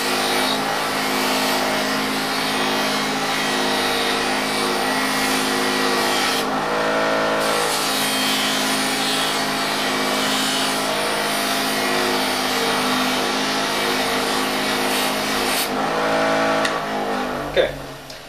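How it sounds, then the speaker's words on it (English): A fine wire wheel spinning against a soldered steel glove blade gives a loud, continuous grinding whir that holds steady for most of the stretch, with brief dips in pressure partway through. "what I do is I clean the whole part up with the wire wheel. And this is a fine wire wheel."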